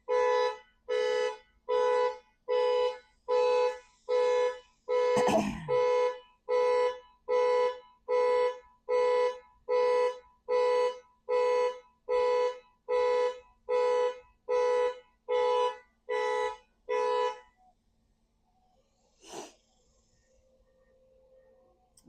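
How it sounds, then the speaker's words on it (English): An electronic alarm sounds in loud, evenly spaced pulsing beeps, about twenty bursts in steady rhythm before it stops, followed by near silence with a single faint knock. "So important that an alarm goes off."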